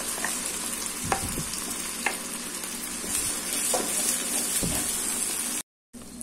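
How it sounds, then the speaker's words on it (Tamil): Thick ground coconut and tomato paste sizzles and spits in a hot pan for tomato kuzhambu, with a few stirring scrapes and clunks of a spoon; no talking. "நம்ம இந்த அரைச்ச இந்த தேங்காய் தக்காளி பேஸ்ட்டை சேர்த்துடலாம்"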